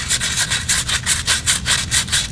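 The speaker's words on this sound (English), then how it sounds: "this knuckle has built up a lot of rust inside the assembly. We're going to clean this all out." Built-up rust is scoured out of the hub knuckle of a 2002 Chevy Suburban during a wheel hub replacement. The scraping comes as loud, rapid back-and-forth strokes, about a dozen in quick, steady rhythm, close and alone.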